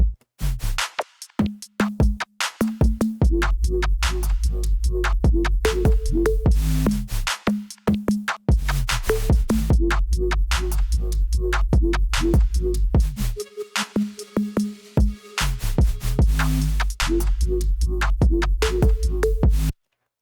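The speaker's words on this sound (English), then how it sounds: "So I have this little drop section going on here, and it sounds like this." An electronic drop made in Ableton Live with a pounding, steady low bass and punchy rhythmic synth stabs, briefly thinning out midway before the full beat returns, loud and continuous.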